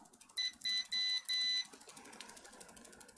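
A multimeter's continuity tester sounds a high electronic tone in four short bursts, the last one longer, close and clear against faint background noise, while testing a water-damaged MacBook Air.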